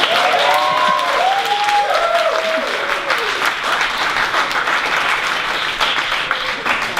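An audience at a theatre society Halloween fundraiser breaks into loud, continuous applause that stays dense and even throughout, with a few faint voices and a brief whistle-like tone near the start.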